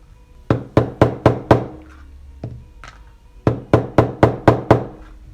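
Leather pricking iron struck with a hammer to punch stitching holes, a bought-at-market budget tool being tried out: a run of five sharp knocks, a pause with a couple of lighter taps, then another steady burst of six.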